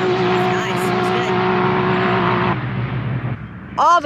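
Tuned cars roar along a sand drag strip at Glamis, engines loud and sustained with steady harmonic drone before fading, then a brief high whine or rev near the end; voices murmur faintly underneath.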